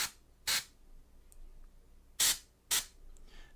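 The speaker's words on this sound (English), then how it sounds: "Maybe we'll spray the underside of that armor right there." Airbrush spraying primer onto the underside of a model's armor in three short, loud bursts of hiss, each lasting a fraction of a second, separated by quiet pauses.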